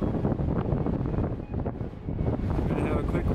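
Strong wind on a mountain run near a snow-covered, ice-covered lake, roaring steadily and buffeting close against the microphone throughout with a brief lull in the middle.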